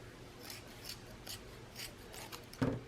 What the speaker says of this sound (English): take a piece of string and tie all the little loops together, and then cut the loops apart